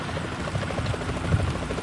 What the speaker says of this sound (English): that a chopper I just heard?